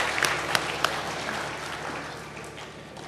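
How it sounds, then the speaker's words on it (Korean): A church congregation applauds at an anniversary thanksgiving service, a steady crowd clapping with a few sharper claps early on, then sustained and gradually easing. "김창범, 이민아 박수로 한번 격려해 주십시오"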